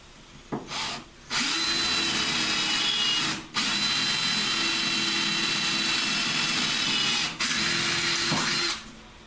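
Power drill tapping a hole during an air conditioning install on an SL-C build: three sustained, close whirring bursts of several seconds each with short pauses between, no talking.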